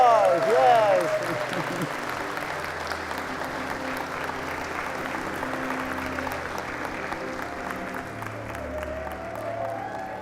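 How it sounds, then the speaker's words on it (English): Wedding guests break into sustained applause for the newlyweds, a dense, steady clapping from a large crowd that holds for about ten seconds, while a voice speaks briefly at the start. "please give them a big applause"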